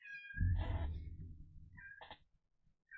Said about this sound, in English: Sounds like the cat wants attention.